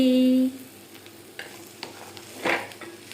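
Potato fry stirring in a pan: soft scraping and sizzling strokes, with one louder scrape near the end, close up and without talk, after a brief steady tone at the start.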